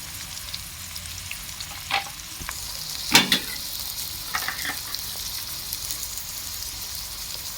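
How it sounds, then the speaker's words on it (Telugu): Chopped green chillies go into a hot pan of chicken curry, giving a steady close sizzle and frying hiss with a sharp crackling burst as they land, then stirring scrapes. "అలాగే కట్ చేసి పక్కన పెట్టుకున్న 4 పచ్చిమిర్చి అండి, అవి కూడా వేసేసుకుందాం."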